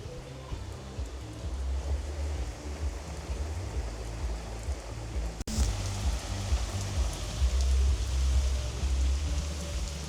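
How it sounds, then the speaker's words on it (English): Heavy rain at the edge of a typhoon gives a steady, dense hiss, with wind adding a low roar. The noise runs close and continuous, with a brief dropout near the middle. "yell at me if like the wind and rain is too loud"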